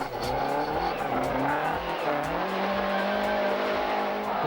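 A Ford Sierra rally car misses the turn at a crest and skids straight on, its engine note rising and falling over a harsh, continuous tire scrub and gravel noise, close and loud throughout.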